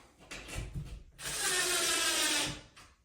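A screw is driven into drywall, with a few quick ratchety clicks and then a sustained whirring burst of a driver, close and fairly quiet.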